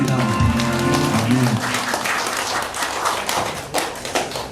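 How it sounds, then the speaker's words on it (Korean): Congregation clapping during a Korean church worship service, starting under a voice and held musical tones, then continuing as scattered, uneven hand claps with some taps and thumps, fairly close. "우리 하나님 앞에 감사와 박수 드리겠습니다"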